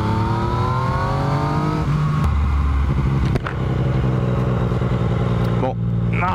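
A 2019 Yamaha MT-09 motorcycle engine revs and accelerates, its pitch climbing and then dropping through gear changes, loud and close over steady road noise.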